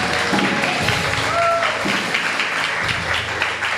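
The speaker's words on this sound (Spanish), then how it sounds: "Dale un aplauso al Señor." A church congregation applauds during a Spanish-language sermon, a steady, moderately loud wash of clapping hands with scattered voices and an exclamation mixed in.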